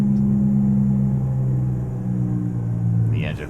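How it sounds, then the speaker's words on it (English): Engine brake of an International 9800 cab-over truck in American Truck Simulator, a steady low droning rumble that holds then shifts pitch, loud and continuous, with a voice briefly at the end. "The engine brake doesn't sound amazing."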